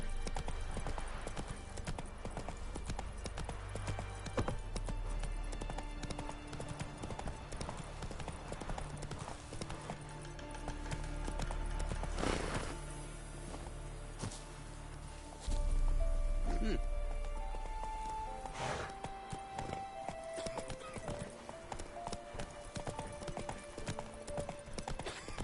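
Hooves of the horse Roach clip-clop steadily in a video game, with occasional snorts, heard beneath a man's speech and background music.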